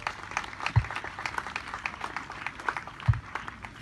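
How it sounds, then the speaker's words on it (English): Audience clapping at a school's 30th anniversary celebration: scattered, uneven hand claps with a couple of louder thumps, moderately quiet and somewhat distant. "Let's clap for them."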